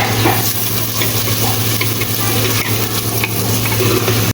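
Steady loud sizzling of garlic and onions frying in a hot pan, with occasional stirring scrapes, continuous throughout with no talking.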